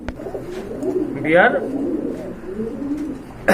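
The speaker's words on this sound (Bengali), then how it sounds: "এটা হচ্ছে গোলাপ জুটির কবুতর মাশাআল্লাহ খুবই সুন্দর" A Bombay pigeon coos once or twice close by, soft throaty rolling calls over a murmur of background voices.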